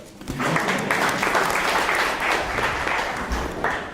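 Audience applause follows a lecture demonstration of a twisted Möbius strip, a steady dense wash of clapping that starts quickly and holds at an even level for several seconds.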